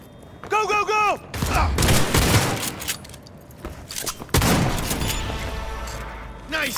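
Gunfire in Cyberpunk 2077, bursts of sharp close shots and rapid volleys spread across several seconds, with a short voice at the start and loud booming impacts between quieter gaps.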